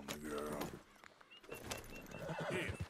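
A horse in Red Dead Redemption 2 whinnies loudly, then hooves clop and gear jingles as a voice talks over the movement.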